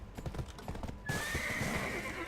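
Horse hooves clip-clop in steady rhythm in a video game at night, joined partway by a bright sustained tone and a whinny, fairly close and loud with no talk over it.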